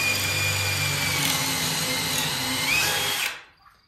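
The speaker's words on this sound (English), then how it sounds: "And then you just drill your hole" A power drill whines steadily at high speed, close and loud, its pitch shifting slightly as it bores through, then spins down and stops.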